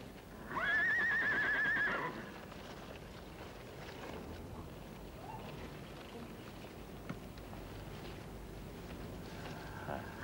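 A horse gives one loud, clear whinny near the start, followed by quieter sounds of movement and faint hoof noises, with some low talk in the background.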